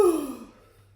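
A storybook reader voices a single yawn, a drawn-out, falling breathy sound lasting under a second and fading away alone.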